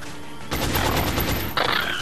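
Gunfire in the XCOM Enemy Within video game: a dense, roughly one-second burst of rapid shots, then a sharp second blast with a ringing tail, loud and close.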